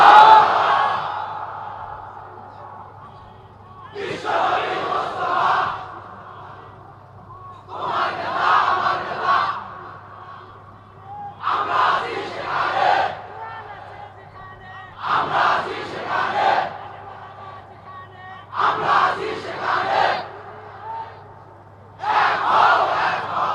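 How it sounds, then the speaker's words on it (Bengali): A large crowd at an Islamic sermon gathering chants Allahu Akbar together. The loud, unified shouts come in about seven bursts, roughly every three to four seconds, with a quiet pause between each. "এত সুন্দর স্লোগান দেয়, একটু জোরে বলেন আল্লাহু আকবার।"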